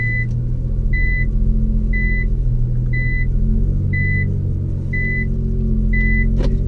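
A car engine idles with a deep, steady burble through an aftermarket Nismo exhaust, while a regular electronic beep chimes about once a second over the rumble.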